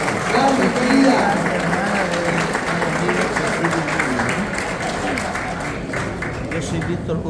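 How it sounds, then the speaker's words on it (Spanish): An audience applauds steadily at a Paraguayan arts and culture event in the Palacio Barolo, Buenos Aires, a dense wash of clapping filling the space while a voice speaks over it. "Le damos un fuerte aplauso"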